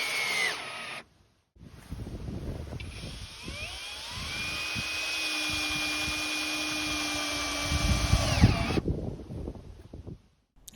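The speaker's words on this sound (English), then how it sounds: "you see me first using an impact drill" Impact drill driving screws while building an outdoor kitchen, a high whirring motor with a whining pitch that rises and holds for several seconds, close and steady, after a brief opening burst and pause.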